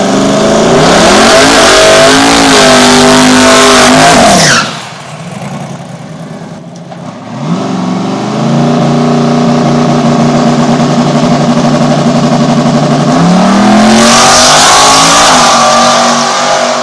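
Drag car with a sharp, harmonic engine note roaring loudly, cutting out briefly around the middle, then running back up through a steady surge and a rising shift near the end, loud and close.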